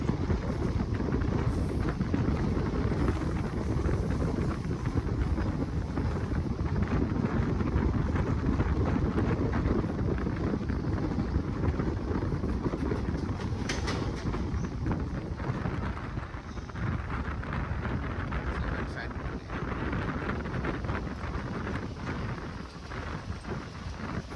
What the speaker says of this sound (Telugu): కాసేపు ఈ beautiful track సౌండ్తో early morning views చూడండి